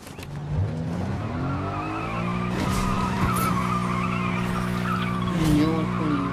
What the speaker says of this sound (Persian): سوار ماشین میشیم.